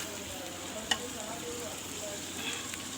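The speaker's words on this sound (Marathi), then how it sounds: "आपण याला छान असं परतून घेऊया" Chicken biryani masala sautés in a pan as a faint, steady sizzling hiss, with one small clink partway through.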